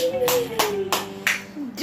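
About five sharp hand claps in a steady rhythm, close and fairly loud, over a sustained tone in the background.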